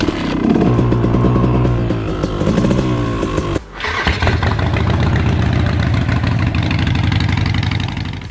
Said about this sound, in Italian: il mio KTM 250 SX a due tempi, appena acceso con relativa fumea da miscela a freddo